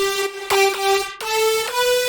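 A bright, buzzy synth lead in future house style plays a short melodic phrase of sustained notes with sharp attacks, several layered tones sounding together.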